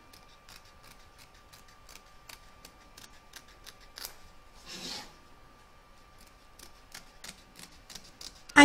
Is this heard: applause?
no